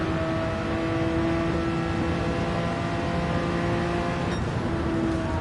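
A race car engine in Gran Turismo 7 holds a steady, loud droning tone as the car gets back on the throttle, a continuous buzzing engine note with no speech over it.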